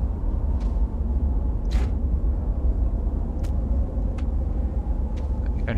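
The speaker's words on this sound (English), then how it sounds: "I hear another storm coming in." A storm in the space exploration game Astroneer gives a continuous heavy low rumble that fills the scene, with a few faint sharp clicks over it.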